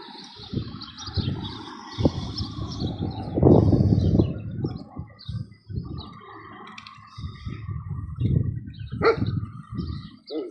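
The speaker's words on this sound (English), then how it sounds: "take it easy with your barking and your playing now" Puppies yipping and growling in play, with scuffling and squeaky high cries, fairly close and busy throughout.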